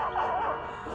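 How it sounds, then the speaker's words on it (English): A single short dog bark or yip from the animated film The Fox and the Hound, close and brief with no talk over it. "That's the mean dog."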